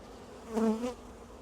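Honey bees at a hive during an inspection, a single bee buzzing close by in a brief burst that swells and fades.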